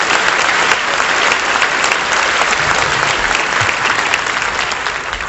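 An audience applauds during a government report speech in San Luis Potosí, with steady, dense clapping that fills a large hall and stays loud throughout, no voices over it.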